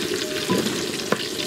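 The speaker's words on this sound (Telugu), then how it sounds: "కచ్చా పచ్చా దంచుకున్న వెల్లుల్లిపాయ రెబ్బలు కూడా వేసుకుంటున్నాను" Crushed garlic cloves sizzling in hot oil while making amla rasam, a short close crackle of frying with a light stir or clink partway through, no talking.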